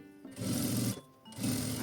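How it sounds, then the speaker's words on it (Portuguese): A sewing machine runs a quick securing stitch along the edge of a clear plastic visor panel on a small cosmetic bag, two short close whirring bursts of rapid needle chatter separated by a brief pause. "posiciono em uma das laterais, passo uma costurinha de segurança bem na pontinha."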